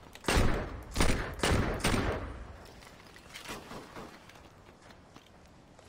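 Gunfire in Saints Row 2, a few heavy, loud shots in quick succession, then quieter scattered pops and shuffling that fade into background game noise, with no talking.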